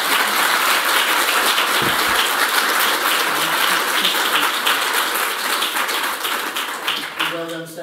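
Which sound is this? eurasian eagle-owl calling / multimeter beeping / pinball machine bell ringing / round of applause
round of applause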